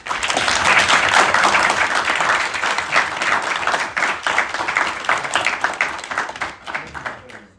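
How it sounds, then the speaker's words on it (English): A crowd at a Latin quiz competition applauds loudly and steadily, the dense clapping gradually thinning and fading out toward the end. "Let's get our final score check and then final round of applause."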